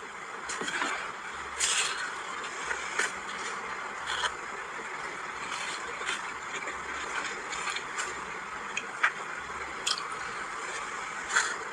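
A person eating rice, with soft, wet chewing and squishing mouth sounds repeating close up in steady bites, occasional louder smacks, no talking.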